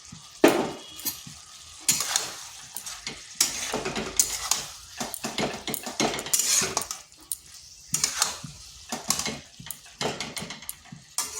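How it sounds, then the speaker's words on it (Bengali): Okra being stirred with garam masala in a frying pan: repeated scraping strokes of a utensil against the pan over a soft sizzle, in irregular bursts with brief pauses. "ভেন্ডিগুলো খুব ভালোভাবে মিশিয়ে নিচ্ছি। আর এখানে দিচ্ছি গরম মশলা।"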